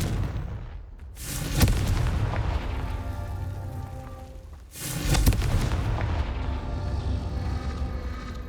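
Two loud, sharp blasts from the Confringo fire spell in Hogwarts Legacy, several seconds apart, each followed by a rumbling, fading roar.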